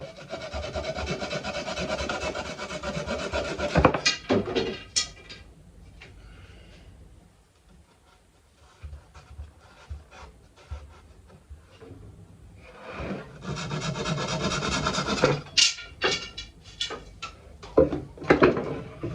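Hand sawing through a wooden piece to cut off the remainder: rhythmic rasping strokes, close and fairly loud, then a quiet stretch of scattered knocks before another run of sawing and clattering.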